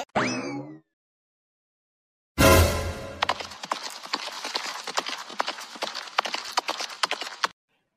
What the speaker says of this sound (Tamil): குதிரை இப்போ கிளம்ப போகுது